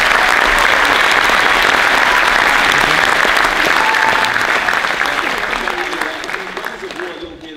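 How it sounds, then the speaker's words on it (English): A crowd at a concert event applauds loudly and steadily, a dense wash of clapping that holds strong before gradually fading toward the end. "Can we get a round of applause for them?"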